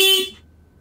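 A single short car horn honk, loud and close, cutting off quickly and fading into quiet.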